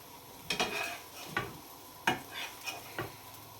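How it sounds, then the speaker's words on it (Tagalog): An egg frying in a pan, a soft sizzle under several sharp scraping and tapping strokes of a spatula against the pan, close up with no voices. "Egg. Pritong egg."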